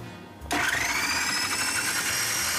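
A kitchen blender blending pumpkin porridge switches on abruptly after a quiet moment, its motor jumping to a loud, steady high whine that holds evenly to the end.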